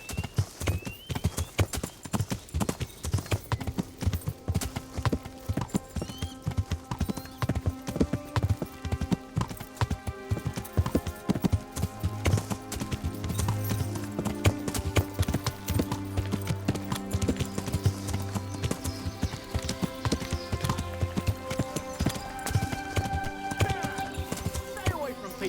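Steady clip-clop of horse hooves at a trotting rhythm in Kingdom Come: Deliverance, with occasional whinnies and game music and voices running underneath.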